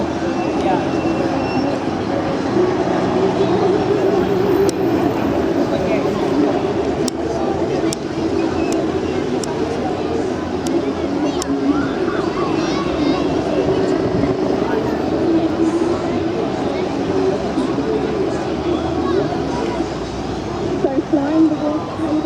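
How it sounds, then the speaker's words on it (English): A Westland Wasp helicopter, a Royal Navy aircraft launched in 1964, flying at the Clacton-on-Sea air show in Essex, a steady loud engine and rotor drone under an announcer's voice over the public address. "Flying the Wasp helicopter this afternoon is Alan pilot Steve January"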